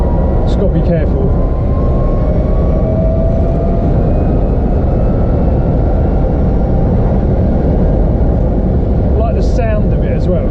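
A modified Renault Twizy electric car drives along with a steady low rumble and road noise, with a faint whine above it; brief knocks or clicks come near the start and end.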